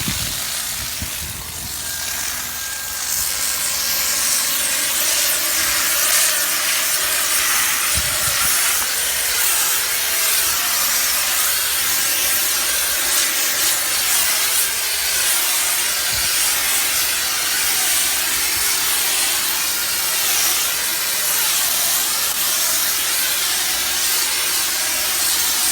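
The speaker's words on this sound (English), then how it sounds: "And I'm going to go over here and I'm going to spray." A steady, loud hissing spray from an AST Kodiak M2 airless sprayer applying Sherwin-Williams Ultracrete coating runs continuously, a dense pressurized rush that holds nearly constant throughout, with no voices.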